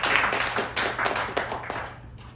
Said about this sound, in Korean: 어렵고 힘들게 가고 있는 우리 정순천 동지 박수 한번 쳐주십시다.